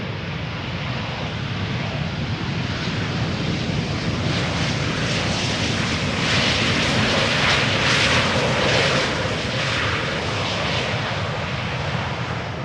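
A German Airways airliner arriving at Amsterdam Schiphol from Basel, its engine roar loud and steady throughout, swelling slightly toward the middle with wind rumble underneath.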